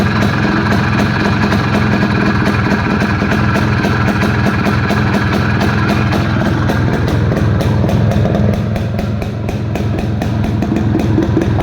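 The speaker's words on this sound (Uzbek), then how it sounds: "Mana motorlarni eshitib ko'ring" Several motorcycle engines idle steadily and close by, a continuous low rumbling drone with a dense, even pulse that holds for the full stretch without any talk.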